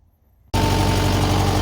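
Kubota tractor engine, freshly serviced with new oil, coolant and fuel filters, starts abruptly after near silence and settles into a loud, steady diesel idle as it warms up, close by.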